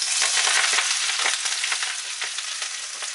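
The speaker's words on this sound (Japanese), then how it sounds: "ほうれん草を入れて炒めます。" Chopped spinach stir-frying in a tablespoon of hot oil in a Chinese wok, a loud, bright crackling sizzle that gradually eases over a few seconds, heard alone without voices.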